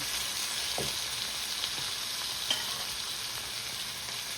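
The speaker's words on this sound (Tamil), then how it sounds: "இதுவும் நல்ல வடிவாக கொஞ்சம் வதங்கி வரட்டும்" Ingredients sauté in a hot pan for a Sri Lankan chicken puttu (kolli pukkai) dish, a steady broadband sizzle running throughout with a few faint stirring scrapes, close and fairly loud, no talk.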